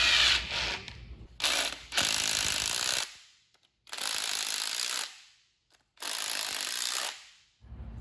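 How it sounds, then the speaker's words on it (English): A ratchet wrench tightens bolts on an engine dampener plate in a garage, giving four loud bursts of rapid clicking with short pauses between them, heard up close and alone. "find some bolts that'll hold this guy to the dampener. Snug these up."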